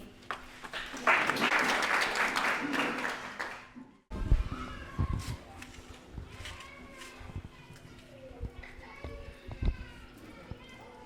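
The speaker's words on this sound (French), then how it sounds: "Ces applaudissements témoignent de notre joie" Students at a back-to-school ceremony rise and applaud a teacher, a few seconds of dense crowd clapping that cuts off abruptly, followed by shuffling, movement and scattered voices in a reverberant space.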